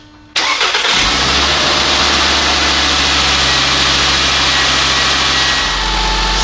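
A Volkswagen Jetta 2.5 engine cranks briefly and catches, then settles into a loud, steady idle with a high whine riding over the rumble, quieting slightly near the end.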